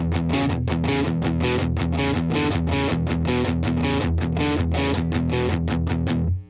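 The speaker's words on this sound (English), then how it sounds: "now I'm going to take off the reverb and the delay and do some palm muting" Chugging palm-muted distorted electric guitar plays a fast, tight rhythmic riff of repeated chopped notes, loud and steady, cutting off abruptly.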